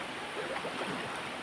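A river swollen and muddied by a long night of rain rushes past in a dense, continuous roar, close and steady with no break.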